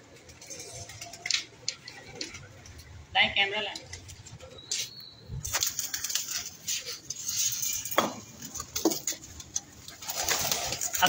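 Pigeons coo softly and intermittently nearby amid faint rustling and occasional fluttering, with a voice speaking at times.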